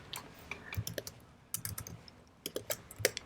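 Someone types HTML code on a computer keyboard, sending irregular bursts of sharp, close key clicks with short pauses between groups and no voices.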